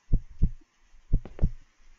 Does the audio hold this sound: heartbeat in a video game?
yes